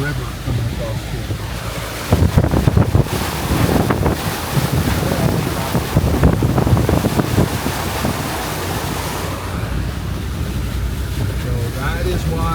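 Hurricane Milton storm surge water flows across a road, heard from a Jeep: a steady wash of rushing water and heavy wind buffeting the microphone, swelling louder midway, with a voice speaking under the roar.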